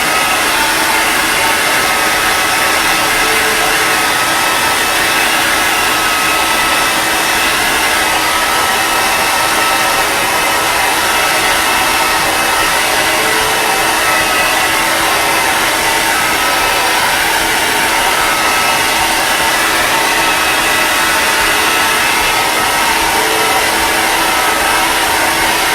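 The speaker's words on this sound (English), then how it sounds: "I'm going to grab the blow dryer here and just blow dry it for a minute" A hair dryer blowing steadily and loudly at close range, a constant whooshing hum with no pauses throughout.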